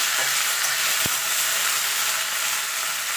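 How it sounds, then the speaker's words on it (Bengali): Vegetables, including spinach, fry in a pan with a constant bright sizzling hiss, close and steady, with one sharp knock early on and no speech. "এবার সবজিটাকে আমি ভালো করে একটু ভেজে নেব।"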